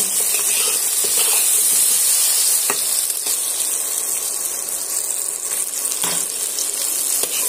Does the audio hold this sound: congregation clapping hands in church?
no